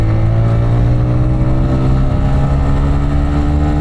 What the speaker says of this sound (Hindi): भाई गाड़ी जहाँ 8000 पे लॉक हो रही थी, ये 9500 आरपीएम तक जा रही है।